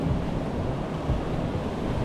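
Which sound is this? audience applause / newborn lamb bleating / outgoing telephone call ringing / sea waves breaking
sea waves breaking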